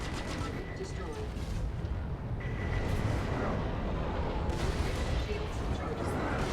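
Missile hits and explosions pound a spacecraft in the Star Citizen space game, a dense continuous barrage of rumbling impacts and crackling blasts, with cockpit alert tones sounding over the din.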